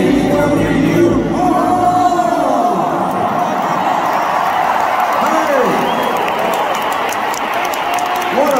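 A huge stadium crowd at a concert at Wembley Stadium roars and cheers, with sustained whooping and clapping filling the space, loud and dense, with voices rising out of the din.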